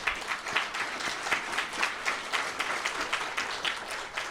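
An audience at a shareholder meeting in Anchorage, Alaska claps in steady, sustained applause, a dense patter of many hands at moderate distance.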